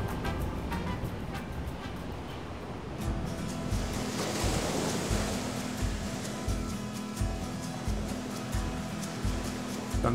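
Steady rushing water and boat wake wash while wake surfing, with rhythmic slapping pulses every second or so, wind noise over the mic, no talking.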